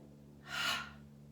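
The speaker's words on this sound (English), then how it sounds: "Breathing out through the mouth." A single slow, breathy exhale through the mouth swells and fades over about half a second during a gentle yoga session, alone against a faint steady hum.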